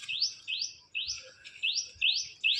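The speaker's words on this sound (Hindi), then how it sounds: "चिड़िया चहक रही।" Small birds give a series of sharp rising chirps, about six calls in a regular pulsing rhythm, fairly faint against a quiet outdoor background.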